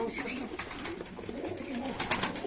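Yellow-eyed tumbler pigeons coo in repeated soft, throaty rolls at close range, with low voices murmuring in the background.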